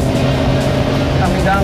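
A Dodge Viper drifts in third gear around the big track at Willow Springs, its engine a loud, close, steady roar with faint tire noise creeping in near the end.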